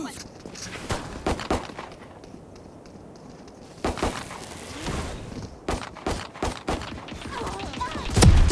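Valorant Mobile gunfire from a player running and shooting: bursts of sharp shots and quick rapid volleys, with a quieter lull midway, footstep-like thuds, and game sounds underneath.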